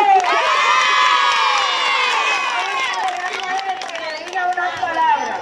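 A school crowd of children cheers, shouts and whoops loudly, with some applause mixed in, a dense sustained roar filling the whole stretch at a Dominican school celebration.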